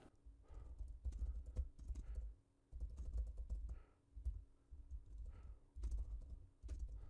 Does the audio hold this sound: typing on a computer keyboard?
yes